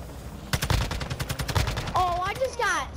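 Rapid automatic gunfire rattles in the DMZ video game, a quick string of closely spaced loud shots, followed by a voice speaking near the end.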